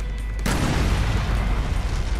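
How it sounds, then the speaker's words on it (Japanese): Explosion in the survival horror game Resident Evil Revelations 2 during Raid Mode, a sudden loud broadband burst after half a second of quieter game noise, followed by a sustained rumbling roar. "近くに来る前に爆発しました"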